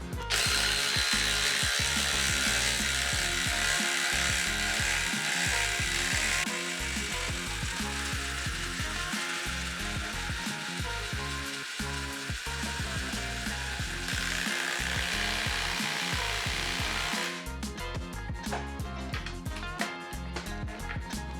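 A DeWalt DCF850 impact driver on speed 3 hammers a 1/2 by 12 inch lag into a pressure-treated 6x6, a loud, continuous rapid rattling impact that runs steadily for about twenty seconds with no talk.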